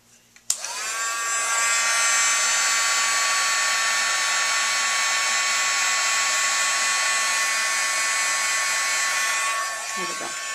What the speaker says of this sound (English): And we'll use the heat gun once again.